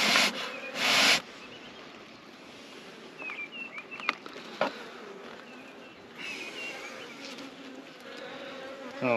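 Honeybees in a nucleus colony hum as a faint, steady buzz close by, with brief louder bursts as individual bees pass near, and occasional rustling.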